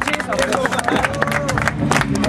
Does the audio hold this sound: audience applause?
yes